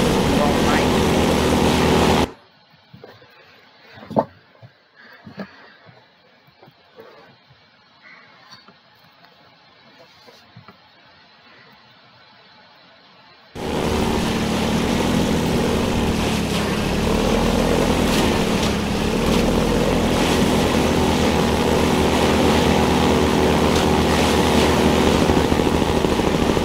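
A boat engine drones loudly with rushing waves in Half-Life 2, cutting out into a stretch of near quiet with scattered creaks and knocks, then returning as a steady roar.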